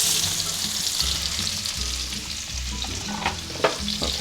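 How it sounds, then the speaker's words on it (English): Onion sautéing in rendered bacon fat in a pan: a steady, close sizzle with low scraping stir sounds and a few sharp crackles near the end, no voices. "We're going to add the onion."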